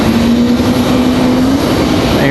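A JetBlue Airbus A220 airliner at Raleigh-Durham International Airport gives a loud, steady engine roar with a sustained tonal whine running throughout, close and continuous.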